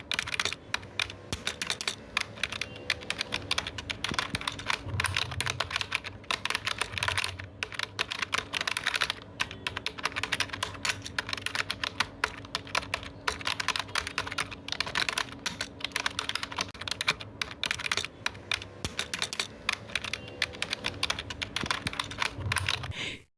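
Steady fast typing on a computer keyboard, a dense stream of close, crisp key clicks with brief pauses, continuing for over twenty seconds without talk.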